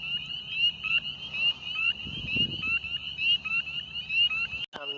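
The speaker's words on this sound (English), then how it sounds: "found another spring peeper here." Spring peeper frogs call at night in a dense chorus of high, piercing repeated peeps, steady and fairly loud, with a brief rustle of handling near the end.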